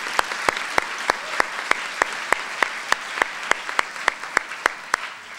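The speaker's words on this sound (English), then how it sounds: "Another round of applause," At an executive MBA commencement ceremony, clapping comes as an evenly spaced, rhythmic beat of sharp claps, roughly three per second, standing clearly above a soft background hum.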